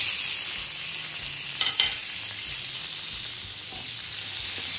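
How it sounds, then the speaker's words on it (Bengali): Whole cumin seeds, onion and green chili fry in hot oil with a loud, steady, close-up hiss and crackle. A couple of faint scrapes sound from the pan. "আস্ত জিরা দিয়ে দিলাম প্রথমে, তারপরে এটার ভিতরে পেঁয়াজ, কাঁচামরিচ"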